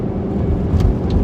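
A car overtaking a slower vehicle on the road, a steady loud engine and road rumble from inside the cabin, unbroken and without talk.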